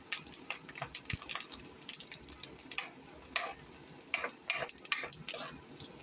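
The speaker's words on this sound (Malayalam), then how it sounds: "കടുക് പൊട്ടിച്ച് നമ്മൾ വെളുത്തുള്ളി ഇഞ്ചിയും കരിവേപ്പില ഇട്ടു." Mustard seeds, garlic, ginger and curry leaves fry in a pan, a low steady sizzle broken by sharp irregular pops and crackles of the seeds bursting, close and fairly quiet.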